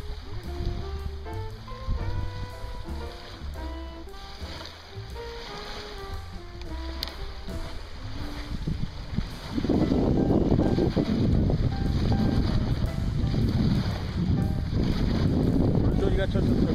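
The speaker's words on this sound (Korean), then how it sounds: "물소리가 철썩철썩 잘 들리네." Waves lapping and splashing on the shore of Yellowstone Lake in Wyoming, a steady wash that grows louder and fuller partway through, with wind and people talking over it.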